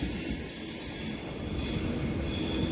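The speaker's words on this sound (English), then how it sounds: "Yeah, it's a light locomotive." A light locomotive running on its own along the West Coast Main Line at Stafford rolls past steadily, a continuous rumble of engine and wheels on rail at moderate distance with no voices.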